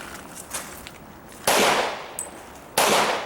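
Gunshots ring out against steel targets at an IDPA shooting match, giving a few faint early pops and then two loud, sharp, ringing clangs about a second apart, each followed by a short metallic decay.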